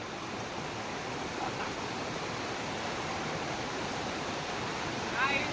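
Rushing water during heavy rain makes a constant broadband wash at moderate level, steady throughout, with a brief faint sound near the end.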